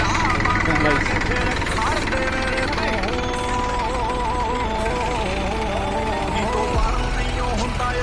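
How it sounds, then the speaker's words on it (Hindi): Three tractors coupled together rumble with a steady, loud, droning engine roar that runs unbroken throughout, dense and close, with a rattling mechanical texture and faint voices underneath. "तो गाइस यहाँ पर ट्रिपल ट्रैक्टर लगा है गाइस"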